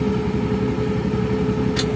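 A Daihatsu Gran Max engine runs roughly, misfiring and lacking power, a steady close idle with an uneven pulsing beat and no talk.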